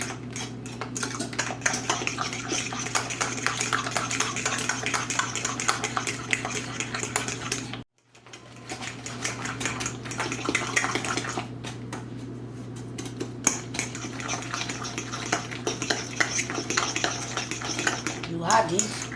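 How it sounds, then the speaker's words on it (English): Steady rapid clinking of a whisk or utensil against a bowl, mixing banana bread batter ingredients, continuous and close, with one brief pause midway and no talk. "And whisk it together."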